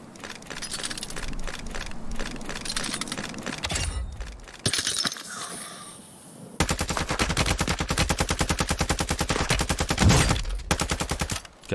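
Rapid, relentless machine-gun bursts from a turret-style weapon in Warzone 2, loud and close, with an early stretch of firing, a brief lull with mechanical clatter, then a long unbroken volley of evenly spaced shots.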